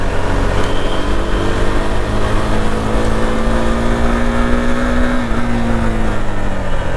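A KTM Duke 390 motorcycle engine holds a loud, steady drone at about 7000 RPM in second gear while riding, its pitch dipping briefly near the end, with heavy wind rumble and no talk.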